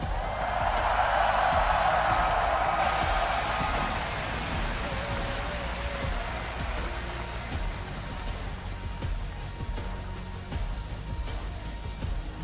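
A Toronto arena audience cheers for the CLG and Immortals esports teams at a League of Legends match, a broad wash of applause and shouting that peaks early, then slowly thins over several seconds.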